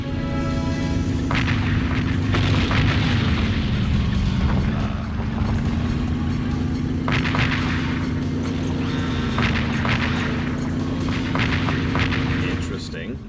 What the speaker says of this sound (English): Bounce bombs.